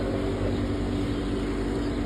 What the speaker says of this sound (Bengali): দেখেন নৌকা উঠে গেল।